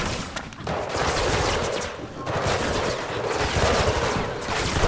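Turret gunfire in the video game Mirror's Edge Catalyst, a dense, continuous barrage of rapid shots with a brief lull near the middle, loud and close throughout.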